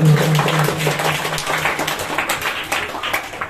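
Loud applause from a quiz show audience in a Hindi program, a thick, even rush of many clapping hands that slowly thins out over a few seconds, with a low hum or held tone at the start.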